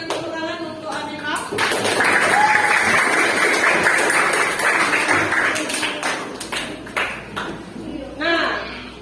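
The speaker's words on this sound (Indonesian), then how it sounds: "Silakan beri tepuk tangan untuk Apipa." A classroom of students claps for a classmate, a dense burst of applause lasting several seconds before tapering off, with talking before and after.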